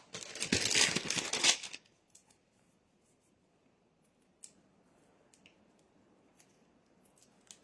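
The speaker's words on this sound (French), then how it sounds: "Je vais prendre du ruban adhésif" Adhesive tape is pulled and handled while assembling a photo box: a dense burst of crinkly tearing and peeling up close for under two seconds, then near silence broken by a few faint, sparse ticks and taps.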